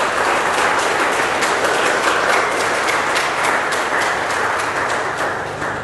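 A congregation in a chapel gives a loud, sustained round of applause, dense even clapping filling the space for several seconds before easing slightly at the end.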